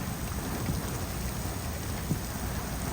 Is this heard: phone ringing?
no